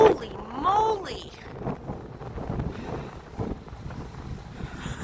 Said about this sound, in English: It's that wind, it just smacks you right in the face.